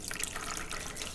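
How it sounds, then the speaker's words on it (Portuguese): Water is poured into a basin for starching a crocheted table runner, a light continuous splashing and trickling that sounds close and fairly soft. "Põe numa bacia água"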